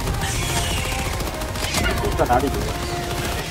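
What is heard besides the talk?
rapid gunfire from a high fire-rate weapon in Helldivers 2 video game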